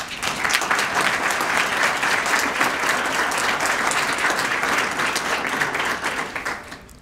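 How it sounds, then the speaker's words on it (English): Audience applauding small business winners at a Bellevue event, with a loud, steady wash of clapping that fills the whole stretch and tapers off at the end. "let's give them another round of applause"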